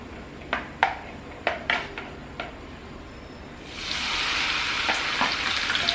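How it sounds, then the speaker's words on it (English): Sweet corn dropped into heated oil for crispy corn: a few sharp clatters as kernels go into the pan, then a loud, steady frying sizzle rising and continuing alone to the end. "So in a heated oil we will add the corn."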